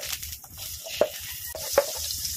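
Butter melting in a hot pan at the start of a garlic chicken wing sauce, with a steady sizzle broken by a few sharp spatters and clinks of a utensil stirring.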